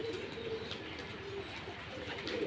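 Giribaz pigeons coo softly in a low, repeated rhythm, fairly faint against a quiet background hum.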